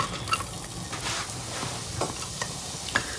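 Hot oil sizzles in a pan as Thai rice cooking begins, a steady close crackling fry with scraping stir sounds and a few sharp pops.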